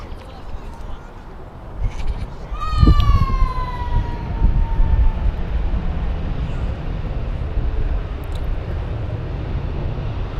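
A Boeing 737 jet spools up to takeoff thrust on its roll down runway 03/21 at Perth. A deep, broad roar builds and holds, with a falling whine riding over it, heard from a distance.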